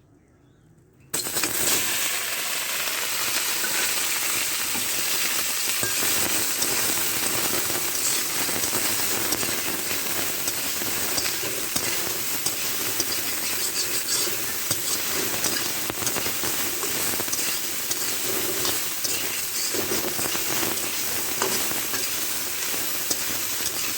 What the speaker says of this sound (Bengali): তেল গরম হয়ে গেছে, এবার আমি সয়াবিন বড়িগুলো দেবো